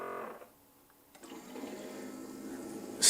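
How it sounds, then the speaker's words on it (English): Liquid dripping and trickling from a sugar gadget, a soft watery patter that fades to near silence, then returns as a steady, moderately close trickle with a brief louder splash at the end. "Let's let this stop dripping."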